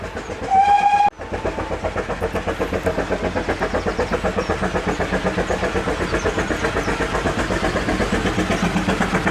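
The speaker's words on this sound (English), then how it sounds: "that's the train" A train whistle sounds briefly, then a train rolls steadily past close by, its wheels clattering over rail joints in a fast, even rhythm that continues for several seconds.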